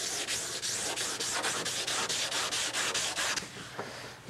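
Hand sanding across a mission oak furniture surface, a rapid, even series of rough back-and-forth rubbing strokes close to the listener, steady and loud before slowing to a few lighter passes.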